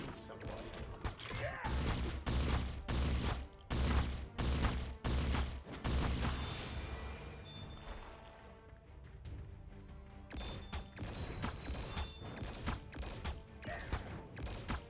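Rapid bursts of gunfire and crashing impacts in the Marvel Super War game, loud repeated shots in quick succession followed by a quieter stretch of mechanical clatter and game effects.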